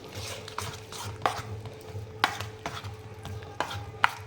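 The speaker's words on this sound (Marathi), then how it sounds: "सगळ्या गुठळ्या व्यवस्थित फोडल्या जातील असं व्यवस्थित मिक्स करून घेऊया आपण पीठ" Gram flour batter mixed with grated coconut is stirred in a bowl, producing soft, irregular scraping and stirring strokes. A few sharp clinks of a utensil against the vessel sound close by, with no voices.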